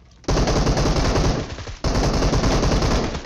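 Sustained automatic gunfire in the battle-royale game PUBG, two loud continuous bursts of rapid shots separated by a brief pause, with no talk.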